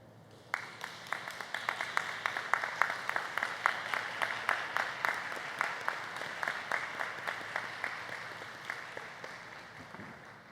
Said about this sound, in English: today I'd ask that you'd stand and applaud those in the stands